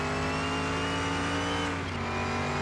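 A Ford Mustang in the Car Mechanic Simulator game holds a steady, high-pitched engine drone at top speed, loud and continuous with a slight pitch dip near the end, no voices.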